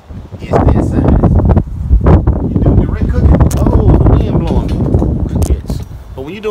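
Strong gusty wind outdoors beside a grill, buffeting the microphone with loud, uneven rumbling bursts throughout while someone talks.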